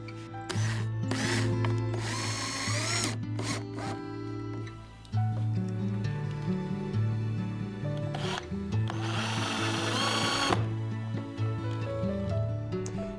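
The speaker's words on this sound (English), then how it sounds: "Now let's secure the bookshelf to the bracket with the small screws." Small screws are driven into a bookshelf bracket with a power drill in two long whirring bursts that rise in pitch under load, separated by short handling noises, close up with no talk.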